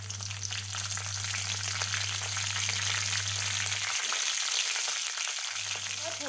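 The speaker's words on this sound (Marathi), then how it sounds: "त्यानंतर याच्यामध्ये आता आपल्याला कढीपत्ता टाकायचा आहे।" Curry leaves hit hot oil for a tempering, bursting into a loud, close frying sizzle that crackles steadily throughout, with a low steady hum from the stove dropping out briefly partway.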